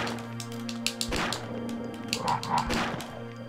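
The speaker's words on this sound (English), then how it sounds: "the freaking dogs are still here!" Dogs bark in the Resident Evil pony mod game, a couple of sharp yips and thumps rising over a steady game soundtrack that hums underneath throughout.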